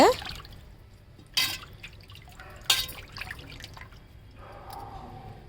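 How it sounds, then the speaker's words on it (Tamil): Fish being washed by hand in water, giving soft drips and trickles with two sharper splashes, then a gentle running-water wash near the end, close and fairly quiet. "நல்லா ஒவ்வொரு மீனுக்குமே வந்து இந்த மாதிரி நீங்கள் நல்லா கழுவி எடுத்துக்கோங்க"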